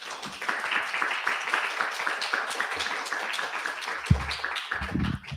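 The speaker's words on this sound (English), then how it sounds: "Please give a round of applause." An audience applauds at a Pratt Test Kitchen evening event, a dense, continuous patter of many hands held steady for several seconds, with a few voices and a thump near the end as it tapers.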